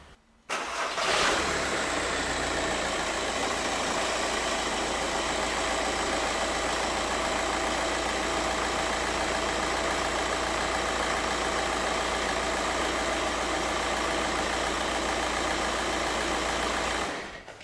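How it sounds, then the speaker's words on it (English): 2006 Volkswagen Jetta TDI diesel engine cranks and starts, then idles evenly for about fifteen seconds with a steady clattering drone before shutting off, heard up close with no talking. "we're going to start the vehicle so I can inspect the Serpentine belt system"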